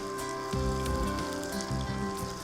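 Banana flower kola balls deep-frying in hot oil, a steady close sizzle and crackle with soft bubbling bursts, heard alone without talk.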